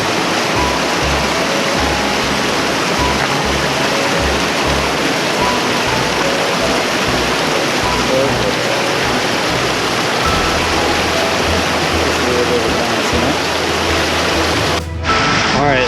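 Forney Creek rushes loudly and steadily at a rocky water crossing, a broad unbroken roar of flowing water close by that ends with a brief knock.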